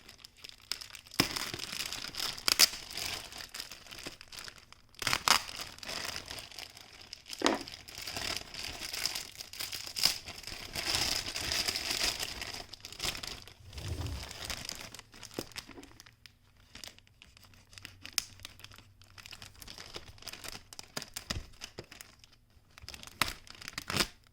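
Cardboard of a glitter subscription box being ripped and torn open, with crinkling and crunching bursts that come in irregular spurts, close and moderately loud, and no talking.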